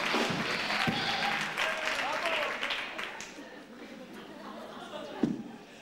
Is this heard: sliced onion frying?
no